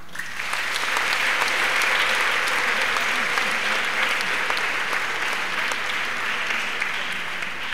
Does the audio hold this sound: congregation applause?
yes